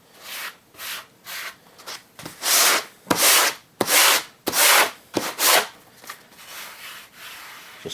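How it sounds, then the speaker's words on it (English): Block sander loaded with 80 grit paper works a laminate countertop in a series of rough, raspy back-and-forth strokes, short bursts at first and then longer, louder passes close by, with no talk. "just go over it with a little block sander, even 80 grit"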